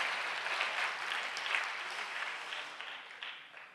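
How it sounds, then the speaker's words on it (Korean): A church congregation applauds during an Easter special prayer meeting, a full crowd of clapping heard clearly and evenly for nearly four seconds, tapering slightly toward the end, with no talking over it. "이럴 때 박수 한번 치셔도 좋습니다."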